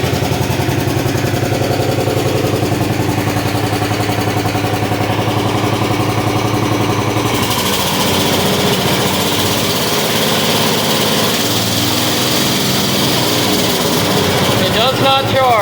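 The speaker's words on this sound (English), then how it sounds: "That's a sweet sounding little machine." An MTD 990 lawn tractor with a rebuilt carburetor runs steadily for about 15 seconds, its small engine putting out an even buzzing drone that shifts pitch midway as it revs or moves. Speech is heard over it.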